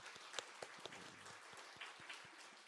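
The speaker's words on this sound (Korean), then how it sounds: "우리끼리니까 박수 한번 하십시다." A church congregation applauds together at a Wednesday service, a steady wash of many hands clapping at moderate distance with scattered sharper claps standing out and no talk over it.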